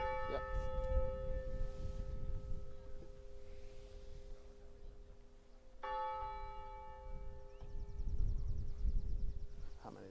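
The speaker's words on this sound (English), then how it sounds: "I gotta wait for the bells to stop ringing." Church bells ring out at a commencement ceremony, their sustained harmonic tones decaying and then struck again around the middle, with low crowd rumble and faint murmur underneath.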